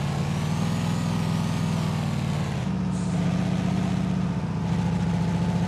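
A Kenworth truck engine hauling an oversized load in Euro Truck Simulator 2 drones steadily and loudly with a deep rumbling hum, shifting pitch briefly partway through, with no voices.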